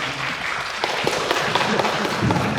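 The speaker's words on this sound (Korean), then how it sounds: "우리 강의사님 박수로 맞이하겠습니다." A church congregation claps to welcome a speaker at a Sunday service, a moderate patter of applause with a few louder claps, fairly close and fading as the speaker arrives.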